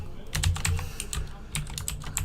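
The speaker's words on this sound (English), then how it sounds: "So much typing." Computer keyboard typing in a quick, close burst of clattering keystrokes, with no talk over it.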